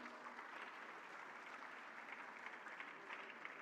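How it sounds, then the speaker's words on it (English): An audience at a startup festival in Karnataka applauds in a steady, even wash of clapping that lasts the whole stretch, fairly distant and soft. "A big round of applause for Ms. Sirisha."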